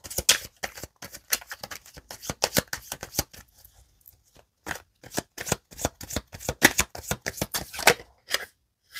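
Oracle cards are shuffled close up in quick bursts of crisp riffling and flicking, with a short pause midway before the shuffling picks up again.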